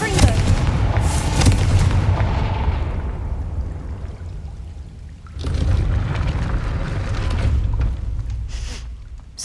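A Confringo fire spell blasts open a gate in Hogwarts Legacy on PS5, a loud booming explosion with a long fading roar, followed by a second burst a few seconds later.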